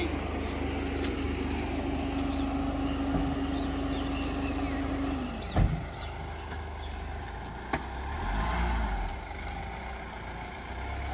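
A car pulling out from a parked spot with the steering wheel turned, a steady close engine hum throughout with a brief knock and a short mechanical whine partway through, no speech.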